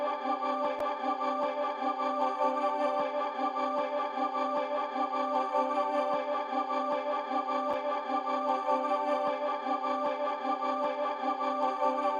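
Dark chopped choir sample pitched down and processed with tape and EQ effects in FL Studio, a steady sustained layered drone with faint periodic clicks at the chop points, loud and continuous throughout.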